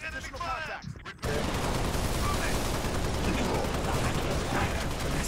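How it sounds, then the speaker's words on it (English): Rapid automatic gunfire in the Halo Reach video game, a dense continuous burst of shots that starts abruptly after a second of game sound and keeps going loud to the end. "Taking enemy fire."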